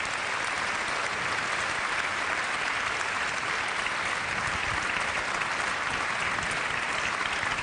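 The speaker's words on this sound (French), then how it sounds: "On peut encore les applaudir" A large audience at a national awards event applauds continuously, a dense, even roar of clapping holding at steady volume throughout with no break.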